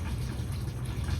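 Bourbon pours into a glass for mixing, a short continuous liquid trickle and glug heard up close with no talking.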